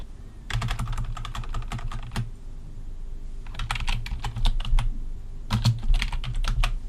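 Computer keyboard typing in three separate bursts of quick, crisp key clicks, entering a site name, with short pauses between bursts over a low steady room hum.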